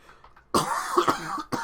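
A single harsh cough after a moment of quiet, then a short second cough right after.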